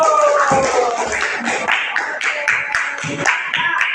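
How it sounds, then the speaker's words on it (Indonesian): A class of students clapping their hands in a classroom, loud uneven rhythmic claps up close, mixed with voices and chatter. "Tepuk tangan dulu."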